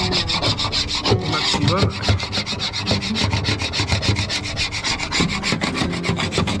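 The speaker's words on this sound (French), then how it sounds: "déjà je gratte la colle" Steady rasping scrape of a tool working old glue off a wooden boat deck, rubbing strokes repeating continuously and close up, with a brief voice at the start.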